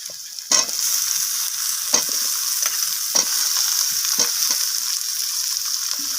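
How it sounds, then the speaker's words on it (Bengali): Onion, radish and potato pieces sizzling in a hot pan, with a constant frying hiss broken by several sharp scrapes and knocks as a spoon stirs them. "আলু আর মূলোটাকে দিয়ে আমি পেঁয়াজের সাথে একটু ভাজা ভাজা করে নিচ্ছি"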